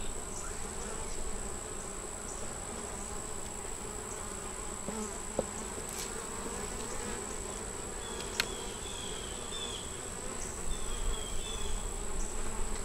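A small honey bee swarm gathered at a long fence, with a red-marked queen, hums in a steady, dense buzz close by, with a few faint clicks and no talking.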